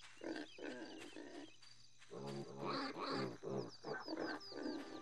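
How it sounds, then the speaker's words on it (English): Pig oinking in a Lord of the Rings: Fellowship of the Ring video game, a run of short grunting snorts in quick bursts with brief gaps, close and fairly loud over faint background game ambience. "I knew I heard oinking over here."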